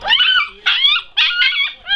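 A dog howls in several close, loud, wavering bursts broken by short pauses, with yipping and whimpering edges, ending on a brief final yelp.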